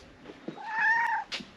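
A cat gives a single drawn-out meow up close, preceded and followed by a few short soft chirps.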